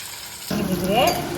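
Onion hits hot oil in a heavy iron pan with a sudden loud sizzle halfway through, after quiet, then a steady close frying hiss with a faint stir scrape.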